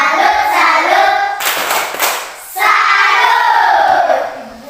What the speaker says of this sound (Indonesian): Oke, mari kita memberikan tepuk salut untuk kelompok 4.